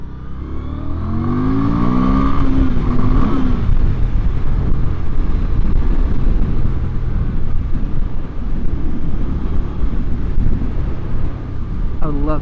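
A Victory Octane motorcycle engine revs steadily and loudly with a rising pitch sweep near the start, a mechanical engine note with little exhaust rumble, continuing as a sustained drone under wind-like noise to the end.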